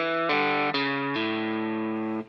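A distorted electric guitar plays a short single-note phrase, a few notes stepping down with quick pull-offs before ringing out and stopping.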